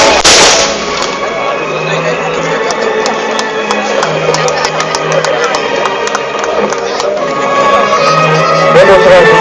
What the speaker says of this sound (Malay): Tembakan sniper.